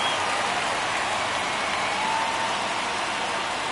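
Baseball stadium crowd at NLCS Game 6 between the Diamondbacks and Phillies in the ninth inning, a dense, steady roar of many voices filling the space at constant loudness, with no commentary heard.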